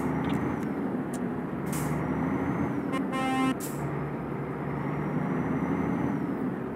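Volvo F12 truck engine hauling heavy equipment up a steep climb in Euro Truck Simulator 2, a steady low rumble with brief horn toots and a short tonal burst partway through, no talk.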